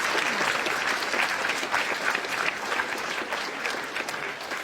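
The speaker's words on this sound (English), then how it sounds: "I'm not sure why they were clapping that." A studio audience claps steadily, a dense, loud wash of applause lasting throughout with a faint murmur of the crowd underneath.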